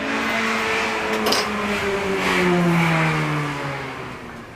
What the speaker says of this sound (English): Now I apologise for the backdrop of sirens and cars.